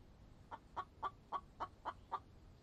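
A chicken in the survival video game The Infected squawks in a quick run of seven evenly spaced, sharp clucks, moderately loud and close, with no talking.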